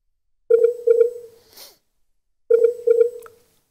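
A telephone call tone sounds in two bursts, each a quick double beep that trails off, with a silent gap between the pairs.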